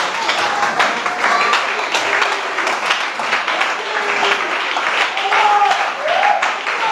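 A church congregation applauds after a sermon, a sustained, even wash of clapping with scattered voices and cheers mixed in throughout.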